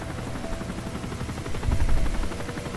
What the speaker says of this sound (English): Oh god, helicopter.